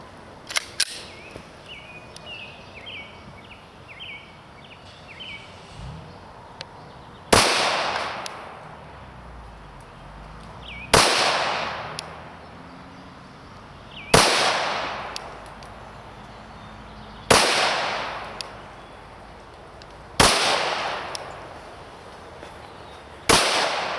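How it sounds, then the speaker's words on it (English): Six sharp, loud shots from a Glock 21 pistol fired at 7 yards ring out one at a time at an unhurried pace, each followed by a brief echo, after a quiet lead-in with small handling clicks. "we're going to shoot the Glock 21 at 7 yards, 21 feet"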